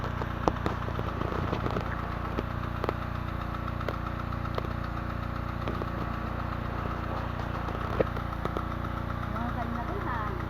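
A steady, low engine idle hums on continuously, with people talking over it throughout.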